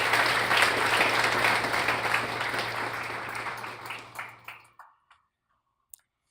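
An audience applauds to welcome a speaker at a tech product event, dense loud clapping that thins into a few scattered claps and fades to silence.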